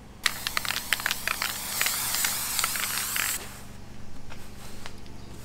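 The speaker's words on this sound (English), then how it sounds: "we're going to use some Loctite spray adhesive to put it down" A can of Loctite spray adhesive hisses in a few short spurts and then a longer continuous spray, close up, ending abruptly into a quiet room.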